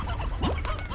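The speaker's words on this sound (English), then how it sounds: "we got chickens galore. Hello, chickens." Chickens clucking in the video game Slime Rancher, a few short squawking calls close by over a low background hum.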